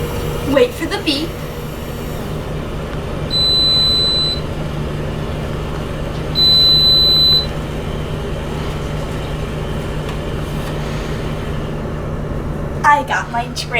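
A drink vending machine gives two clear electronic beeps a few seconds apart, each a steady tone about a second long, over a constant background hum with people talking nearby.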